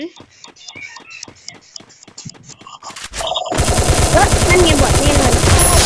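Free Fire video game gunfire starts as a string of separate shots about every quarter second, then breaks into loud, continuous machine-gun fire that fills the rest of the clip.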